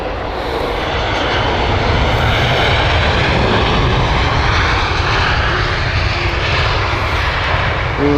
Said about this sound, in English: This is retro. BA retro here. Airbus A319.